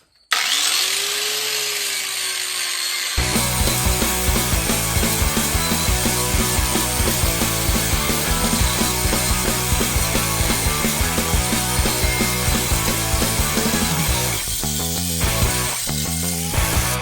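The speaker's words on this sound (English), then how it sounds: "Let me get the wire wheel out and clean these up" A wire wheel on a power tool scrubs rust and grime off derby car bumper brackets in a shop, running loud and continuous with a gritty, chattering grind and brief dips near the end.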